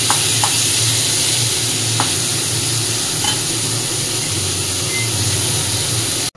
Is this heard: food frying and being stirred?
yes